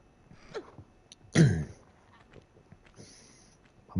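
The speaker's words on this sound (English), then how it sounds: "I might have to get up and get a drink of water soon, try and clear my throat." A man clears his throat once, a short rough burst in the middle, amid faint quiet sounds and occasional soft game noises from a Tomb Raider session.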